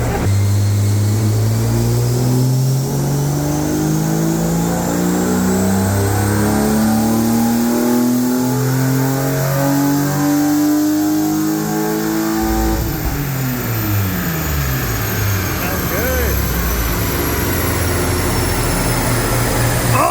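A BMW Z3M Coupe with a custom exhaust revs up hard and loud, engine pitch climbing steadily for about twelve seconds before dropping back and surging again, a continuous close mechanical roar with no talk over it.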